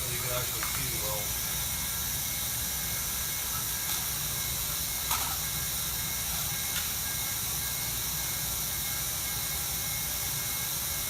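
A hot air welding gun runs continuously while welding Armstrong Corlon vinyl flooring, giving a loud, steady broadband hiss with faint clicks and a voice talking underneath.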